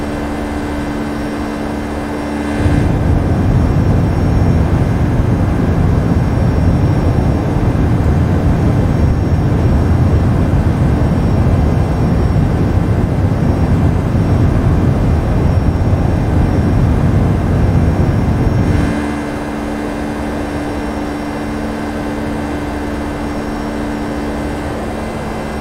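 A FlightFactor Boeing 757 freighter takes off in the X-Plane 11 flight simulator, its jet engines rising into a loud, steady roar that holds for about sixteen seconds before dropping back to a quieter hum.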